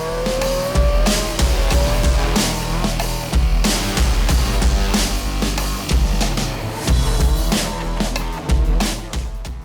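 Rally cars compete at the Galway International Rally on tarmac, engines roaring loud and continuous with repeated bursts of revving and tyre squeal, several passes stacked over a dense, busy roar with no voices.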